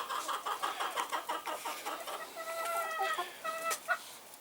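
Several young Denizli roosters crow in short, cracking bursts amid clucking hens, the calls overlapping and breaking off quickly, fairly close.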